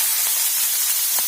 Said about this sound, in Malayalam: മോരുകറിക്ക് വേണ്ടി കുറച്ച് കടുകും ഉരുവും പൊട്ടിച്ച് വെളുത്തുള്ളി ഉള്ളിലേക്ക് ഇടുന്നു